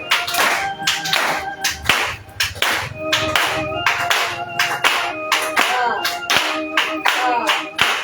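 Church congregation clapping in acclamation during a French-language service, loud rhythmic group handclaps with occasional singing or voices mixed in.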